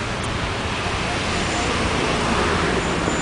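Morning traffic jam on a road near Águas Claras in Brasília with cars packing the lanes and shoulder, a steady dense roar of road noise and engines heard close and constant.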